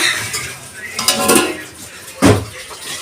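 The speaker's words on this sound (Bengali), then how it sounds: "এদিকে ছোটো মা বাসন দিচ্ছে" Dishes and metal utensils clink and clatter close by in a home kitchen in a few quick bursts, while people talk quietly in the background.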